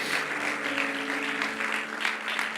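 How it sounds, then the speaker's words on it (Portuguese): A church congregation at Zion Lisboa gives its media volunteers a round of applause, a steady wash of many hands clapping close and even for a couple of seconds, with a faint sustained tone underneath. "Você pode dar uma salva de palmas a Jesus aí, aos nossos voluntários que servem com tanta excelência?"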